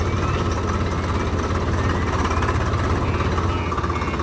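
A tractor engine during rice harvest rumbles in a steady, heavy low drone throughout, close and continuous, with no talking.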